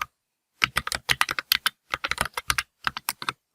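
Code is typed on a computer keyboard in quick, close bursts of clicking keystrokes separated by short pauses, with no voice.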